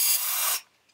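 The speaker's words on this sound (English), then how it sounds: "I'm just going to like spray" A single short hiss of an aerosol spray of silicone oil for fluid pour painting, close and loud, lasting about half a second before cutting off into quiet.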